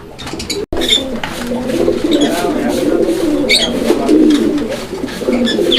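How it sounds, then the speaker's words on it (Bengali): A pigeon kept for its strong call coos loudly and close in several throaty rolling phrases over a steady background, with a brief dropout near the start. "হান্ড্রেড পার্সেন্ট ডাকের কবুতর"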